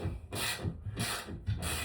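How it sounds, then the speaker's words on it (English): A ratchet wrench drives a lag bolt into a wall while a TV is being hung: three close, rasping strokes, each about a third of a second, with short pauses between them. "I pretty much do it just with a ratchet wrench"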